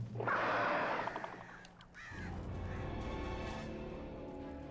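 A crow in the video game Alan Wake gives a loud, harsh, drawn-out caw close by, then a lower rumbling ambience continues with fainter bird sounds.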